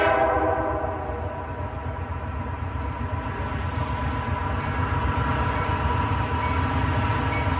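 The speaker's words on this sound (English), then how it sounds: "count the number of wagons on the next freight train, which takes minutes to pass" A long freight train of 114 wagons rumbles past close by along the northern US border, a continuous heavy rolling roar on the rails, steady and unbroken for the whole stretch.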